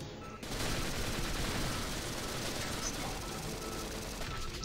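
In the Sven Co-op game, an automated gun turret fires a dense, unbroken stream of rapid shots that starts abruptly after a brief pause and stays loud and steady to the end.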